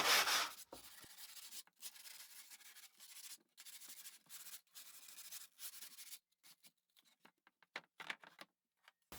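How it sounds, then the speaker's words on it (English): Rough sandpaper rubbing along the edges of a wooden ledge shelf, a close series of scratchy strokes in irregular bursts with short pauses, loudest at the start and then trailing into lighter, choppier passes. "I'm going to take some real rough sandpaper and just make sure there's no sharp edges"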